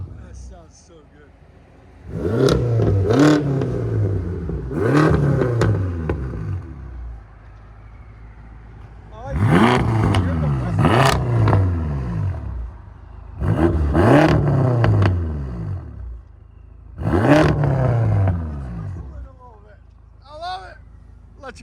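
A 2014 BMW M6 with a 4.4-liter twin-turbo V8 and catless straight-pipe exhaust revs in about five separate loud bursts, each rising and falling, with a steady idle rumble between them.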